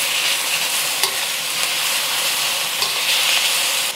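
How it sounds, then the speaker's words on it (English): Pork is stirred while it cooks in a hot pan, giving a loud, dense, steady hiss of frying with a few faint scrapes of the utensil, close up and with no talk. "Just gonna stir this up now. I want the pork to be fully cooked through."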